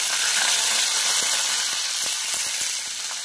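Chopped onions fry in oil for a dried prawn curry, a steady, fairly loud hissing sizzle broken by a few faint clicks of stirring, easing slightly toward the end.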